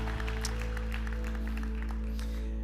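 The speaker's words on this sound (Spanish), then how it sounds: "Iglesia, damos un fuerte aplauso" A church congregation applauds in praise after a prayer, a dense, steady wash of clapping that fills the whole moment over a sustained low musical hum.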